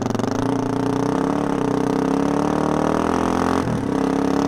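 A Suzuki DR-Z400E rally build fitted with a 434cc big bore kit rides off on its first ride. The steady single-cylinder engine drones loud and close, with a brief dip in the revs near the end.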